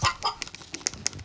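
A person imitates a chicken with rapid clucking bursts while playing Brookhaven as a chicken, uneven squawks and clucks sounding close and fairly loud.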